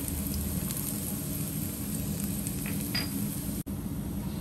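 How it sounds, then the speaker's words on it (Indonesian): Ginger and garlic stir-frying in a pan for a Hong Kong-style dish, a steady loud sizzle with faint crackles and a brief scrape of stirring, no talk. "lalu kita tumis sampai harum"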